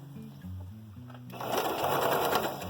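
A sewing machine stitches fabric with a fast mechanical hum and rattle that speeds up and grows louder partway through, close by and without speech.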